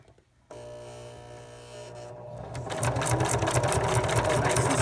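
A sewing machine stitches hook-and-loop Velcro onto a BSA patch. Its motor hums steadily at first, then a fast, even needle rhythm builds and grows louder up close.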